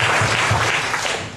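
Church seminar congregation clapping in praise of Jesus, a brief burst of loud, dense applause from many hands, close and sustained.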